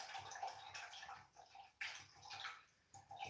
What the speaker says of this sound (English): So let's rinse our brush out.